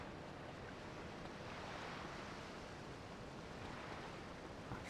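Heavy rain pours in GTA Liberty City Stories, a steady, dense wash of noise that holds at an even level from start to finish with no voices over it.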